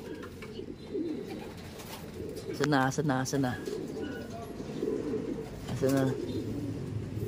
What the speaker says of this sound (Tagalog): Gusto ng lumipad ng mga ibon natin na to.